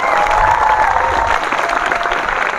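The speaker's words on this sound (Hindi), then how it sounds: "जोरदार तालियां।" Loud applause and cheering from a school crowd of students celebrating a children's Chandrayaan 3 model, steady dense clapping throughout with no talk.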